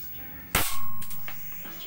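A Beretta MP900 air pistol fires a single sharp, close shot, followed by a metallic clang from the target that rings and fades over about a second.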